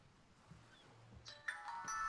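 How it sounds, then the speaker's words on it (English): A phone ringtone starts up faintly partway through, with bright repeated chiming tones rising out of quiet background hum. "Let me mute my phone."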